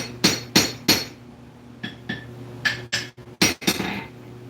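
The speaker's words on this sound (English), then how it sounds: "Take this big hammer and" A hammer strikes metal about nine times in uneven bursts, each blow sharp and ringing with a bright metallic clang, close and loud.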